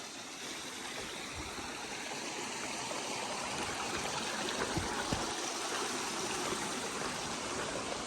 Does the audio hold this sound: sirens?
no